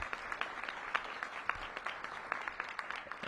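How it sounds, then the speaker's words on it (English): Applause at a mayoral announcement on tutoring in Washington, DC: an audience claps in a steady, even patter, heard at a moderate distance with no talking over it. "Please give yourselves a big round of applause."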